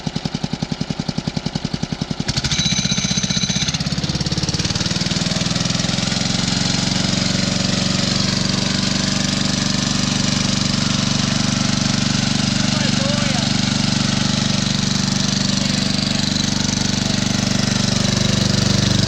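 A 12-horsepower chainsaw mill engine sputters through a few rough, pulsing bursts, then catches and settles into a loud, steady running drone that continues to the end.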